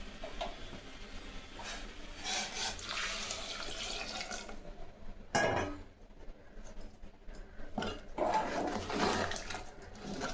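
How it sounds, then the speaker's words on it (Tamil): Hot water splashes and trickles steadily into a pot of drumstick sambar, with a clattering noise midway and continuing gurgling pours afterward. "பக்கத்தில் சுடுதண்ணி வச்சுருக்குறேங்க அதே எடுத்து இதில் சேர்த்துக்கலாம்"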